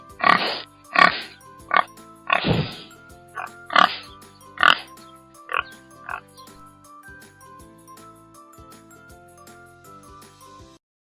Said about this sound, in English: सुअर pig, pig.